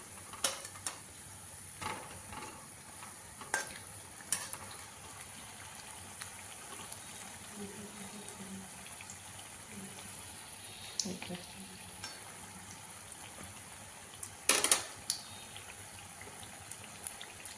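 Faint, low sizzling of food frying in a pan, with a few scattered clinks and scrapes now and then.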